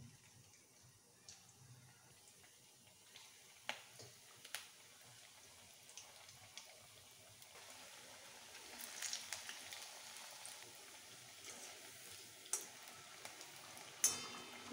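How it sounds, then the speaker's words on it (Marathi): Coriander vadi frying in hot oil, a soft continuous sizzle with scattered small pops and occasional louder crackles that grow busier toward the end, fairly quiet with no talking. "आता आपण वड्या तळून घेऊ।"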